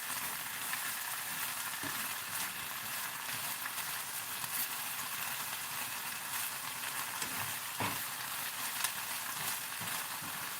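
Spinach sautéing in a pan, a steady, dense sizzle and crackle throughout with occasional soft stirring knocks.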